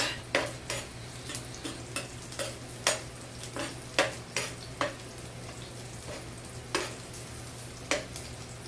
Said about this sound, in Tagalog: So unahin na natin itong bawang. Gisa-gisa lang mga idol.